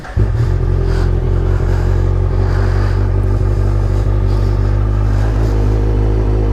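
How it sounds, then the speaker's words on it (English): A Kawasaki Z1000 naked sport bike engine rumbles loud and close, holding a deep steady roar throughout with no talk over it. "Love myself a naked sport bike"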